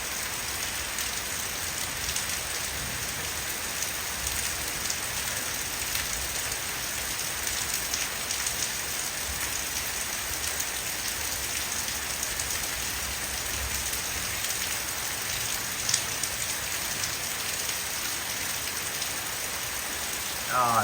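Heavy rain pours steadily onto a cabin veranda in Alaska, a dense, even hiss of drops drumming on the surface, constant and close with no pauses.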